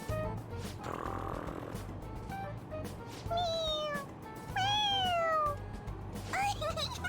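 A cartoon cat in the video game Persona 5 Royal meows several times with rising, bending cries, loud and close over a steady background game soundtrack.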